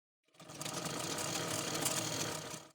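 A sewing machine runs steadily while stitching a seam on a blouse pieced from fabric scraps, a dense whirring, clattering hum that starts abruptly, holds for about two seconds and stops, with no voices.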